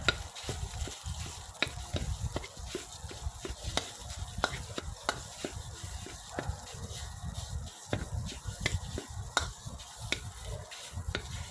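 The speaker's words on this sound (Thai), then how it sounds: "ก็จะผัดให้เขาแตก ตัวนิดนึงค่ะ" Thai curry paste is stir-fried in a pan for a chicken wing dish, rhythmic spatula scrapes and taps repeating over a low, gentle sizzle, fairly quiet and close.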